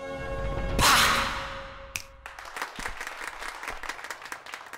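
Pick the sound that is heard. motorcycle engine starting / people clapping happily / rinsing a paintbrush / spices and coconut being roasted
people clapping happily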